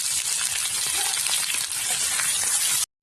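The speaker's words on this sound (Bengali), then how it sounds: "তেলে দেব কালো জিরে আর দেব রসুন, পেঁয়াজ, কাঁচা লঙ্কা দিয়ে একসঙ্গে ভেজে নেব" Black cumin, garlic, onion and green chili frying in hot oil give a steady, dense hiss and crackle that holds evenly for nearly three seconds before cutting off abruptly.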